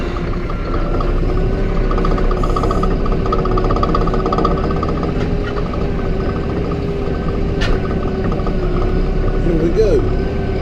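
Massey Ferguson 4710 tractor engine running steadily while pulling a disc, a loud, close, continuous diesel rumble with mechanical rattle and no break throughout.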